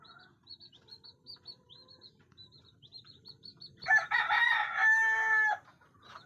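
A hen calling out loudly from a pen: faint, scattered high chirps lead into one loud, harsh cackling squawk lasting about two seconds, then quiet again.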